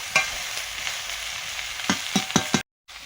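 Chopped vegetables sizzle and fry in a pan for a Bengali ghonto with pumpkin and Malabar spinach, a close steady hiss punctuated by several stirring scrapes before a brief cut to silence.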